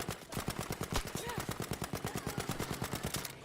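Rapid automatic gunfire from the video game Battlefield V, a long sustained burst of evenly spaced sharp shots, loud and close, with faint voice chatter underneath.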